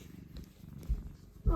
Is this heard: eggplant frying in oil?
no